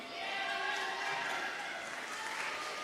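A festival audience gives steady, dense applause for the ushers and photographers, a continuous wash of clapping that stays loud and even for the whole stretch, with faint crowd murmur.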